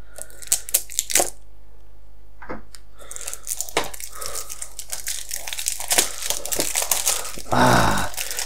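Monthly parcel being opened, its plastic packaging crinkling and tearing in close, irregular bursts with pauses, ending in a louder sustained rustle.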